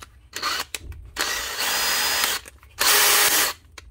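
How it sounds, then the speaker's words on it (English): A worn DeWalt cordless drill from a box of broken tools, tested after repair, runs in several short bursts, its motor whirring up loud and close, pausing and restarting, with the last burst the strongest. "There's a little Dewalt drill."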